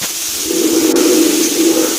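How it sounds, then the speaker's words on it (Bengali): Fish frying in oil in a wok, seasoned with salt and turmeric, giving a steady loud hiss with a broad sizzling texture that holds evenly from start to finish. "মাছটাকে ভেজে নেব ভালো করে"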